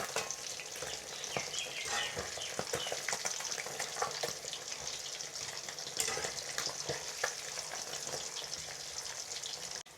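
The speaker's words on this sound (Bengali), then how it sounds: "পরবর্তী মাছগুলো আমি এইভাবে ভেজে নেব।" Pieces of bata fish shallow-frying in hot oil in a pan, giving a continuous close sizzle with crackles and scattered spits and pops, punctuated by occasional stirring clinks.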